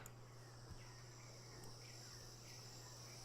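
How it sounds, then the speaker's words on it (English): Cicada-like insect buzz from the ambience of the video game Strength of Thousands, a faint, continuous high drone with a low steady hum beneath and a few soft chirps, no talk. "So many of these sound effects are just like cicadas."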